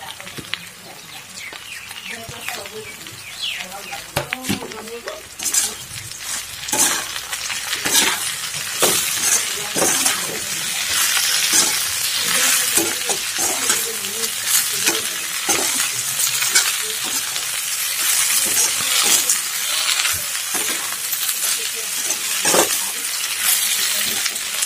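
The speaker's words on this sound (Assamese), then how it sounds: "আমি পালেংখিনি 2-3 মিনিটমান ভাজি লওঁ" Spinach stir-fried with boiled potatoes in a pan for an Assamese-style palak fish curry, giving a steady loud sizzle broken by repeated scraping clinks of the spatula throughout, with a voice talking now and then.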